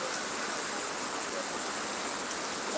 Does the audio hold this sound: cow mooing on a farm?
no